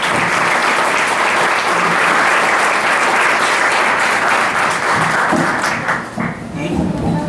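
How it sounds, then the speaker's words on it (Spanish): At a conference, loud, sustained audience applause fills the room, thinning briefly near the end as a voice begins speaking over the tail of the clapping. "Así que un fuerte aplauso"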